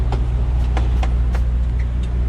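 A truck engine idles with a steady low rumble, close and loud, with a few faint clicks over it before shutdown.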